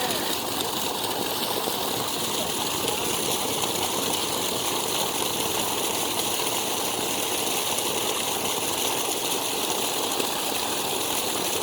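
Dirty water pours steadily from a newly drilled tube well in Sabah, Malaysia, a constant close gushing rush with a low engine-like drone underneath, unbroken from start to finish and with no talking.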